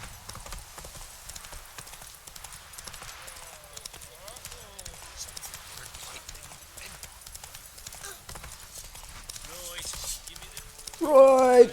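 A horse gallops in The Witcher 3 with steady, close hoofbeats throughout, and a voice calls out over the running near the end.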